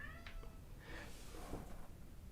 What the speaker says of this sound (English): He's come in now, he's meowing at the door.